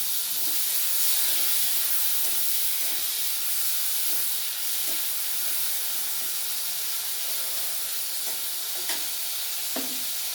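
Chopped small tomato and salt sizzle and hiss steadily in a hot pan, with soft stirring scrapes breaking through now and then, close and continuous.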